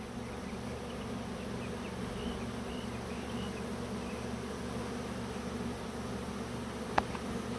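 A swarm of honeybees on March 29, 2020 produces a dense, unbroken hum of many wings, steady and loud throughout, with one brief sharp click near the end.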